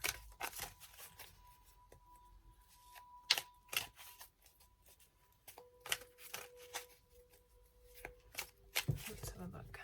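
Tarot cards shuffled by hand in quick bursts of riffling and slapping, close and fairly quiet, with pauses between, while a voice talks softly over part of it.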